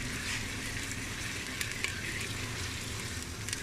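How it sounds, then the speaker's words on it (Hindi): Steady close sizzling of garlic and ginger paste frying in a hot pan, with faint crackles and occasional stirring clicks. "इसको तकरीबन 2-4 मिनट में भूनूंगी।"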